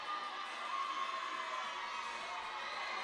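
A crowd at a college basketball game against Valley City State sends up a steady, distant wash of cheering and chatter that continues without a break.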